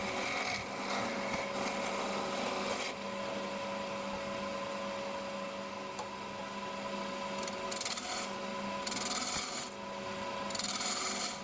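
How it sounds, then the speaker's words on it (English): A 3/4 inch roughing gouge cutting a spinning wood blank on a lathe, a close, steady abrasive rasp under the motor hum, rising in bursts of brighter shaving noise as the tool bites. "And that's the 3/4 inch roughing gouge."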